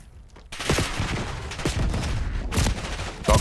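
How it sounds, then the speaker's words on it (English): Rapid gunfire in a shooter video game, a dense run of loud close shots over about three seconds with a sharp burst near the end. "I'm going to shoot him right here."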